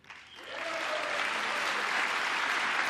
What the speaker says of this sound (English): Imagine clapping for that.